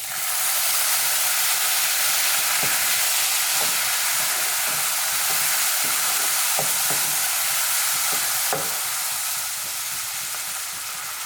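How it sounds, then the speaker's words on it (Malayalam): Coconut milk goes into roasted vermicelli in a hot pan on low flame for semiya payasam, setting off a loud, continuous sizzle and bubbling hiss close up, with a few soft knocks and no speech. "ഇനി ലോ ഫ്ലെയിമിൽ വെച്ച് കൊടുത്തതിന് ശേഷം നമുക്കിതിലേക്ക് നമ്മൾ നേരത്തെ റെഡിയാക്കി വെച്ച 2ാം പാലില്ലേ അത് ചേർത്ത് കൊടുക്കാം"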